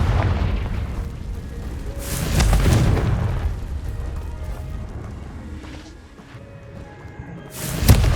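Confringo blasting spell explosions in Hogwarts Legacy, several loud booming bursts, one near the start and another at the end, over a rumbling game soundscape.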